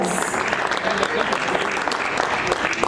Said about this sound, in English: let's give our jolly Arun ji a huge round of applause